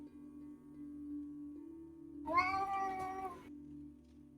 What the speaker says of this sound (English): Oh, stray cat.